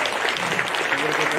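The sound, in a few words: audience applause for VIP guests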